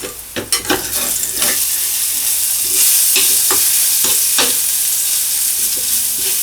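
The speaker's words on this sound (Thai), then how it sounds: "ผัดกระเทียมต่อ" Garlic stir-fries in a hot pan with a loud, steady sizzle, while a spatula knocks and scrapes against the metal in irregular close strokes.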